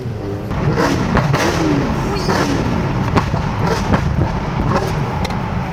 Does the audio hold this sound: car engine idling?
yes